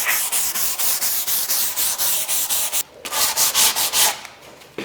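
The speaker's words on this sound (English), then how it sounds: "when you're hand sanding, you need to sand with the grain" Steady back-and-forth scratching of sandpaper on wood, sanding with the grain to smooth router marks, rhythmic strokes close up, with a short pause before the rubbing continues.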